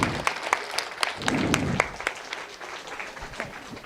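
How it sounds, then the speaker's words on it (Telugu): Audience applause welcoming someone speaker onto the stage at a youth talk event, a dense patter of clapping with sharp individual claps standing out, fairly close and steady before thinning toward the end. "గట్టిగా చప్పట్లు"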